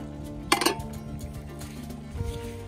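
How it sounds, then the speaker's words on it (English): A spoon scrapes and clinks against a cooking pot while tomatoes and paprika are stirred together for Hungarian goulash, with a couple of sharp metallic knocks and soft stirring noise, no talking. "you're just stirring it all together"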